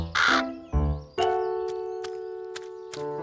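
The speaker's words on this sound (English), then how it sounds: "We'll have to give that crow a good talking to, B2." A cartoon crow caws loudly three times in quick succession, each harsh call followed by a sustained tonal note that rings on underneath.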